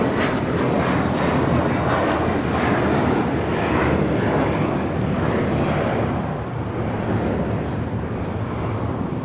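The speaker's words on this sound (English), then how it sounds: "It's flight 1331 coming in from Liberia on a 737-800 in the Disneyland Pixar Pier livery." An Alaska Airlines Boeing 737-800 on approach to land at LAX, its jet engines producing a loud, continuous roar and whine that holds steady before easing slightly toward the end.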